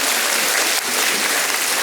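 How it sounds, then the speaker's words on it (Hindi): An audience applauds loudly for devotees called onto the stage at a live youth spiritual gathering, with dense, continuous clapping throughout. "आप सब जोरदार तालियाँ इन भक्तों के लिए।"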